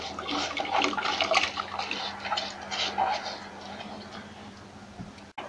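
Washed black glutinous rice poured into a pot of boiling water, a close watery splash and rush easing into a softer bubbling, no talking heard.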